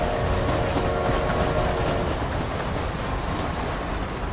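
A train rolls along in the Red Dead Redemption video game, giving a loud, steady rumble with a continuous clickety-clack of wheels on rails and no voices.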